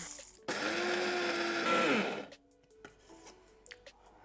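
Toasted, cooled spices whir in an electric grinder, a loud steady motor drone of about two seconds that rises in pitch near the end before cutting off, followed by faint clicks and handling sounds.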